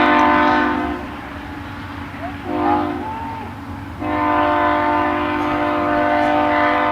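A passing train sounds its horn next to a soccer field during a high school boys' match, a loud, sustained blaring tone over steady rumble, with a brief dip midway before the horn swells again.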